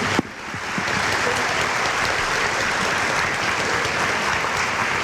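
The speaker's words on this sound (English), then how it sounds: "Just a quick round of applause and thank you to our musicians" At an 8th grade promotion ceremony, a large audience claps for the student musicians in a dense, steady wash of applause that starts abruptly and holds loud and even to the end.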